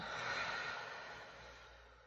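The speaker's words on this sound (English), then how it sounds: "Breathing in and out." One slow, deep breath drawn in and let out, soft and close, with nothing else audible.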